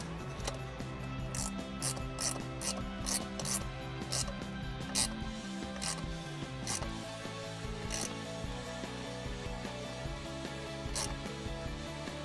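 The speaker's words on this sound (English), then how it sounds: "now I'm going to install our 10mm bolt on the back where our bracket goes into our air intake tube" A ratchet tightens a 10mm bolt with flat and lock washers on the air intake bracket of a 2006-2022 Dodge Charger 5.7L, a close series of quick metallic clicks in uneven bursts with no talk.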